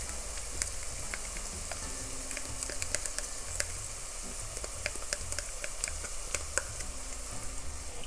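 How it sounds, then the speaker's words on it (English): Garlic and chili frying in a pan for spicy corn chowder, a steady crackling sizzle with scattered sharp pops, close and fairly quiet, no talking. "we're going to fry that. We're also going to add the 3 cloves of garlic"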